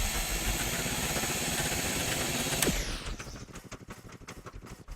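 Gas engines running on a low setting in the video game Scrap Mechanic, a dense rumbling mechanical drone that abruptly cuts to a sparser chugging pulse partway through.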